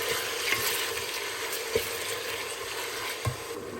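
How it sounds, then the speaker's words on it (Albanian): Chicken pieces frying in hot olive oil in a pot give a steady, close sizzle, with a few soft stirring knocks and bumps. "tash të marrim mishin e pulës edhe hedhim pra në tenxhere."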